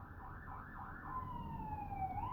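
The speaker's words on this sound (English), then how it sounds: "sirens will go by in a podcast" A faint emergency siren passes outside, its wail rising and falling and then sliding into a long steady tone that fades at a distance.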